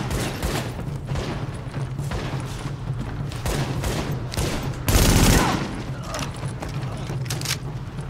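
Heavy gunfire in The Division video game, sustained loud bursts of automatic shots from several weapons with a sharp explosive blast midway, dense and close throughout.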